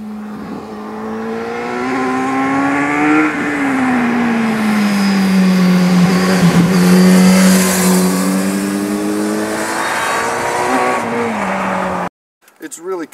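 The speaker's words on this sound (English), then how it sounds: "Wicked exhaust note. That's the standard exhaust pipe exhaust note of the decade, I reckon, that one." A 2018 Kawasaki Z900RS with its stock exhaust revs loudly and close by, its engine note rising and falling through the rev range. The sound holds strong before cutting off abruptly near the end.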